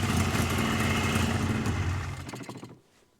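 A Yamaha Vmax 700 snowmobile engine runs rough and bogs, a loud uneven sputtering rumble up close that fades and cuts out near the end.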